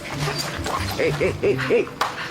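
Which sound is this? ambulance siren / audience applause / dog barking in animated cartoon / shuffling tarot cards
dog barking in animated cartoon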